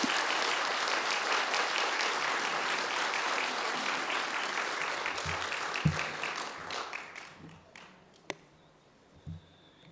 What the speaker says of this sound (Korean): 여러분 뜨거운 환영과 격려의 박수로 맞아 주시면 감사하겠습니다